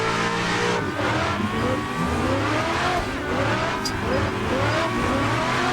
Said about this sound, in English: And that's how you drift in Klutch Kickers AI.